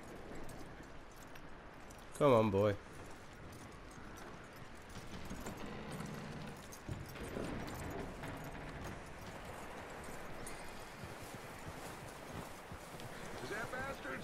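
Horse hooves walk across the ground in Red Dead Redemption 2, a soft clip-clop under ongoing game ambience, with a louder burst early on and a voice talking over it.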